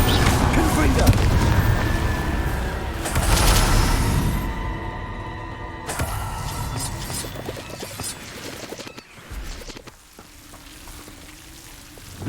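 Fire spell blasts cast in Hogwarts Legacy, booming crackles and bursts loudest in the first half, then fading into quieter sizzling and rumble, with a spoken incantation in the clip.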